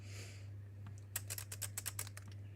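A burst of typing on a Braille display keyboard connected to an iOS device, with about ten quick, close clicks bunched together after a short pause, heard alone over a steady low electrical hum.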